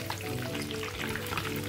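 Chicken pieces frying KFC-style in hot cooking oil, a dense steady crackling sizzle filling the whole stretch, close and fairly loud with no voices.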